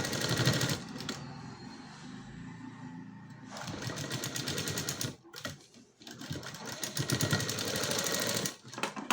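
A sewing machine stitches a folded blouse hem in several dense mechanical runs, with a brief pause midway and a short gap near the end, close and steady.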